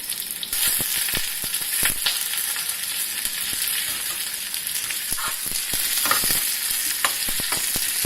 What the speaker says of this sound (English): We fry them till the time they turn out to be brown